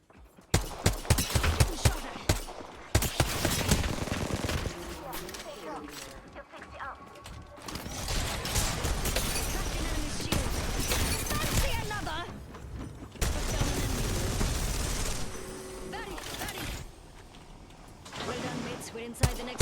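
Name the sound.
gunfire from a video game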